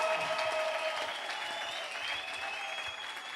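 Church congregation clapping for the Lord during a Sunday service, a sustained wash of applause from many hands, moderately distant and even, with faint voices mixed in.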